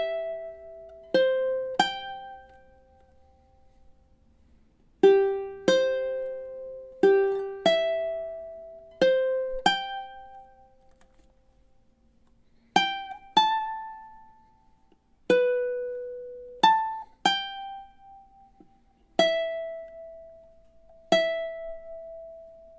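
Solo ukulele playing the full opening melody of a tune from The Legend of Zelda as single plucked notes in a gentle, unhurried rhythm, close and clear, with each note ringing briefly before the next.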